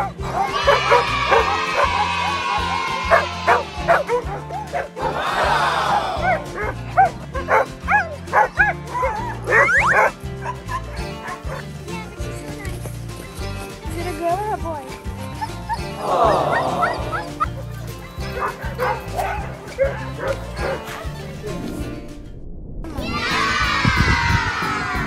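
Sled dogs at a dog-sledding outing in Mont Tremblant, Quebec, bark and yip excitedly in repeated bursts, some loud and close, with voices mixed in amid the noisy pack.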